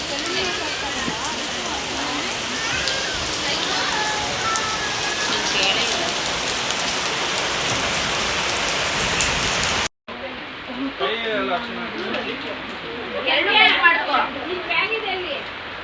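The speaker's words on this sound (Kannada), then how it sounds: "ಮಳೆ ಮಾತ್ರ ಜೋರಾಗಿ ಬರ್ತಾನೆ ಐತೆ" Steady heavy rain pours down in a dense hiss, briefly cut off, then resumes with scattered nearby voices and clatter.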